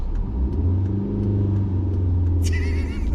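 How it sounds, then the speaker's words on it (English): A cheap used car's engine rumbles steadily at low pitch during a hill start, rising slightly as it revs, with a brief high squeal near the end. "A small hill start here. Just a bit of revs."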